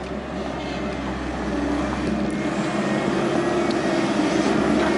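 A Cat 312 excavator with a thumb attachment works digging a cellar hole, its diesel engine a steady low rumble that builds slightly, continuous and fairly close with no voices.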